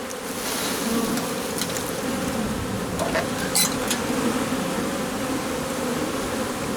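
A honeybee swarm entering a hive in a meadow apiary gives off a dense, continuous buzz of many bees, close and steady throughout, with a few sharper individual wingbeats passing near.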